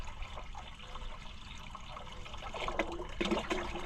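Water drains out of an old Oliver Super 77 tractor into a bucket with a steady trickling splash that grows slightly louder toward the end, with no talking.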